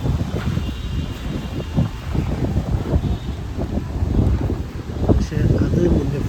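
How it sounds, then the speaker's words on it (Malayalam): Strong night wind outdoors beside a hotel building buffets the microphone, a steady low rumbling roar with gusty swells and no clear voices. "ആയി നല്ല കാറ്റ്"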